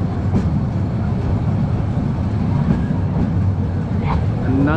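Cox's Bazar Express train rolling slowly into the station at Cox's Bazar, a steady loud rumble with faint wheel squeal near the end, continuous throughout.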